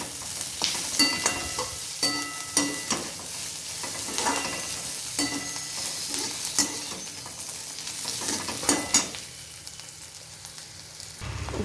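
Onions sauté in a pan for tomato onion chutney, a steady close sizzle punctuated by repeated scraping and stirring clicks from a spoon against the pan.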